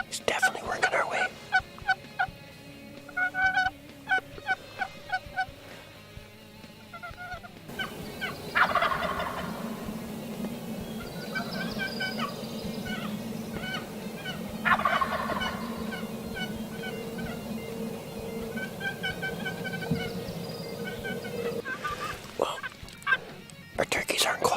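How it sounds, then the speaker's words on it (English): A wild tom turkey gobbles out in an open field. Repeated rattling gobbles come from a middle distance over a long stretch, with a steady low rumble of wind or movement beneath and faint hushed human sounds. "the turkey's right out here"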